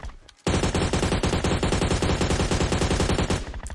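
Sustained rapid automatic gunfire from PUBG Mobile, a loud continuous burst of dense shots lasting several seconds after a brief quiet start.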